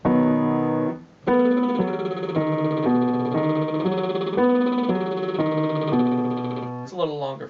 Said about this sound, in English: Last one on the lip trill is the octave arpeggio, but in reverse order.